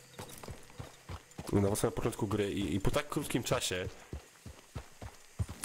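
Horse hooves clip-clopping in Red Dead Redemption 2, a quick irregular run of hoofbeats beneath someone talking over the game audio.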